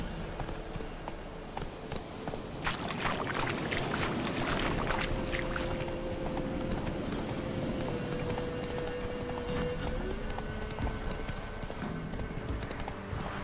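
Horse hooves clip-clopping at a steady pace in The Witcher 3: Wild Hunt, a continuous rhythmic patter over game ambience and music, fairly close and unbroken throughout.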